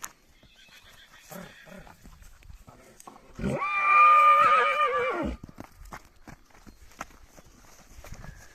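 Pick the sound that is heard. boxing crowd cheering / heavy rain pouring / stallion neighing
stallion neighing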